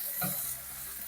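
Food frying in a pan while being stirred, a brief close burst of hissing sizzle with a soft scrape of the utensil.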